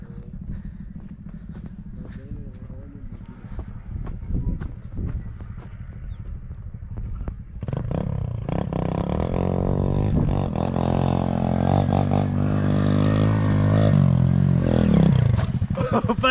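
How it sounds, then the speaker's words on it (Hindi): Motorcycle climbing up a canal bank: a faint idle with scattered noises gives way to a loud, rising engine roar as it strains uphill, then cuts off sharply. "फहद बाइक चढ़ाएंगे यहाँ पे।"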